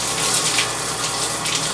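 Water from a shower with a newly replaced cartridge runs in a steady, hissing gush, close and continuous with no talking.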